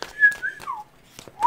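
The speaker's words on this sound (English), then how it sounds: "Someone's whistling at someone." A person whistles a few short melodic notes, some gliding up and down, clear and fairly close with small pauses between phrases.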